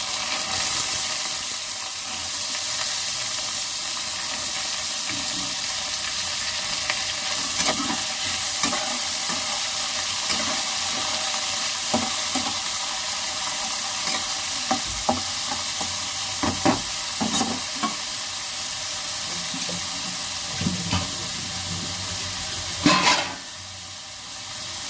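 Beans and carrots sizzling in hot oil with spices in a pan, a steady loud fry with scattered scraping stirs and clinks throughout, no talking.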